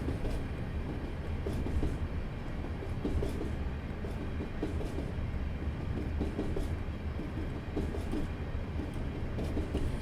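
A Class 37 diesel locomotive in Train Simulator Classic rumbles steadily at low power with a deep, constant engine drone and faint rhythmic clicks of wheels on track.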